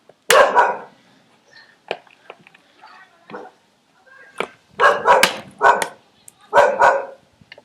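A dog in The Gambia barks in short, loud, sharp bursts, one early and then a cluster of several in quick succession, with brief faint human sounds between them.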